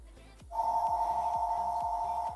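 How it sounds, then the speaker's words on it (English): A steady electronic phone ring, two close tones sounding continuously, plays over a low rhythmic thumping pattern in the background during a strength training workout. "We're going to have a telephone ringing here."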